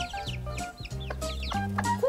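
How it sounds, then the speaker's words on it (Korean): Chickens cluck and chatter in the morning in the Jirisan mountains, several birds close by giving repeated rhythmic clucks and short calls one after another. "닭들의 제잘거림으로 시작된 지리산의 아침."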